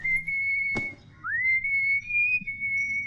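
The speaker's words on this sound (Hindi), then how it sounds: "बस उसी को रिहर्स करने के लिए मैं सीटी बजाता हूँ।" A man whistles a self-composed tune to rehearse for a college play: a clear, sustained high melody with a brief gap and a sliding note, close and alone.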